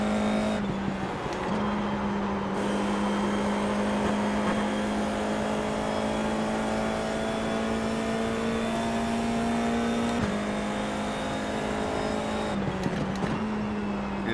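FIA F4 race car engine at Spa in a racing video game, a loud, sustained high-revving whine with brief pitch drops at gear changes, heard close and steady with no talk.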